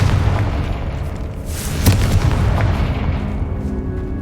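A Confringo fire spell blast in the video game Hogwarts Legacy, a sudden booming burst near the middle that rises over a dense rumbling background, then fades into a low, steady roar.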